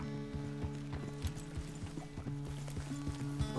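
Horse hooves clip-clopping at a steady walking rhythm in the Red Dead Redemption 2 video game, clear and regular over a low ambient hum, with no talk.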